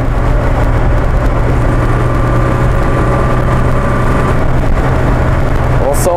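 An Alfa Romeo Alfa 6 pulls hard on a motorway, its engine sending a loud, steady droning hum into the cabin. Road and wind roar runs underneath throughout.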